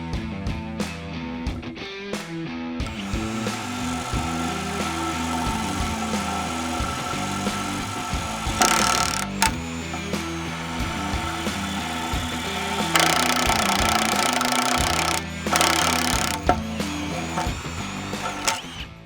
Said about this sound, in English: I'd love for you to try our fiberglass drill bit and compare experiences for us.